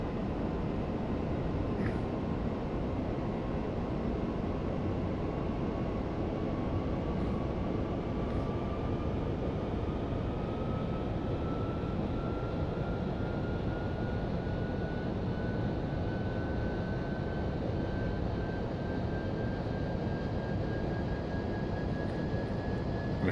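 An airliner engine in the FSX flight simulator during an RNAV arrival and ILS approach into Atlanta: a steady, loud broadband drone with a faint tone that climbs slowly in pitch, and no talking.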